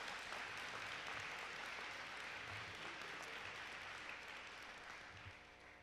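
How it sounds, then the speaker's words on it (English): An audience at a law enforcement graduation in Minnesota applauds honorees for their service, a faint, steady wash of clapping that slowly tapers toward the end. "Can we give them a round of applause for their service?"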